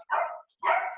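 Two loud, close barks from dogs indoors, each a short burst separated by a brief pause.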